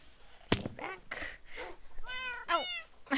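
Cats in Minecraft meow several times in a row, clear and close, a few separate calls followed by a pair of longer, higher meows at the end, with no talking over them.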